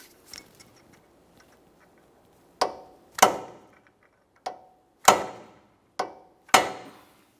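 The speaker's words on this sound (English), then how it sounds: "Let's use the hammer and punch and drive the nut down into this area," Six sharp metallic strikes of a hammer and punch on the axle nut of a 2014-2019 Toyota Corolla front steering knuckle, at irregular intervals, each ringing briefly, with near silence between them.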